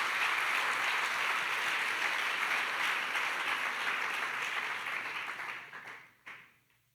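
A church congregation breaks into sustained applause of praise, a dense, even wash of many clapping hands that fades out near the end.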